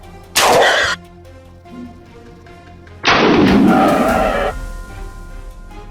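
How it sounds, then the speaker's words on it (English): Two loud gunshots fired at a wild boar in a snowy forest, the first a sharp crack with a short tail, the second a heavier blast with a longer rumbling echo, spaced about three seconds apart with no talk. "Not missing the opportunity, I aimed accurately and shot it down quickly."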